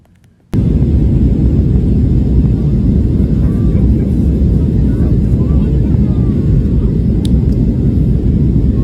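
Steady, loud broadband roar of an airplane in flight starts abruptly after a brief quiet moment and holds as an unbroken cabin rumble throughout.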